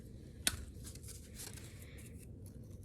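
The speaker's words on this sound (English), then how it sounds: "I take my scissors and I do a little design" A single sharp snip of scissors cutting through thick corrugated cardboard, followed by faint rustling and handling noises.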